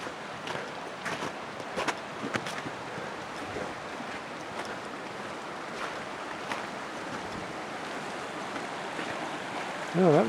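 Hunters Creek runs fast through a mountain forest in Wild Basin, a broad steady rush of water with some wind buffeting the microphone and a brief louder bump at the end.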